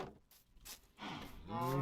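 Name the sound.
cows mooing in a video game (Minecraft)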